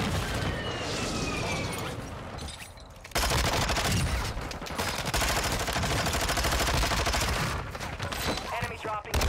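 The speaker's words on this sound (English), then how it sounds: "People shooting over here" Sustained gunfire from Call of Duty Warzone, dense bursts of automatic weapon fire and booming shots that run almost continuously, loud and close, with a brief lull early on.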